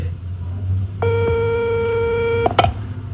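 A telephone rings with a steady electronic tone lasting about a second and a half, followed by a click as the handset is picked up, over a low background hum.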